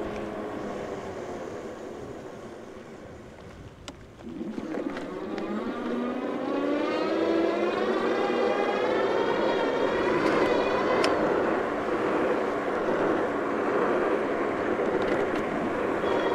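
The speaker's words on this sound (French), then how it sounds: "mis à part le bruit du moteur." The dual-motor Lankeleisi X-Black Knight electric bike is ridden along. A faint whine swells and climbs in pitch as it speeds up, then holds as a steady hum over soft rolling and wind noise.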